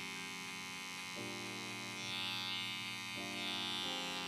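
Electric hair clippers buzz steadily during a freestyle haircut design class, a continuous close motor hum that shifts pitch slightly as the blade setting changes, with no talking.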